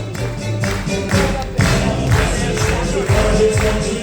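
An audience at a Coast Guard military appreciation day aboard the Carnival Dream cruise ship claps and sings along to a loud, steady rhythm, with voices and music filling the space throughout.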